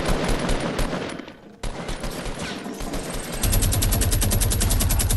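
Rapid, continuous minigun fire from Fortnite rattles loudly in dense bursts, briefly pausing before resuming as a sustained, steady stream of gunshots.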